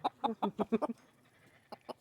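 A rooster clucks in a quick series of six or so close, sharp calls, then two more after a short pause.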